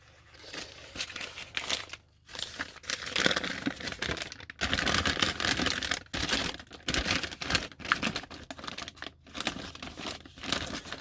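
Loud, continuous crinkling and rustling of packing paper being pulled from a box and crumpled close by, with only brief pauses, for about eleven seconds.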